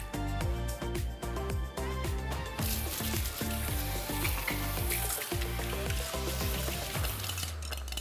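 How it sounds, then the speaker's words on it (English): Chicken stock from a can sizzling loudly in a hot wok with crispy residue, while making Malaysian laksa; a continuous bright hiss with crackling bursts and stirring scrapes throughout, no talking. "This is actually a chicken stock in a can, and we're gonna go all the way around our wok"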